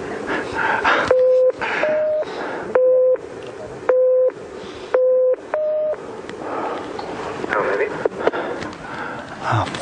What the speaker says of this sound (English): you're going to try and count the low tones and ignore the high tones.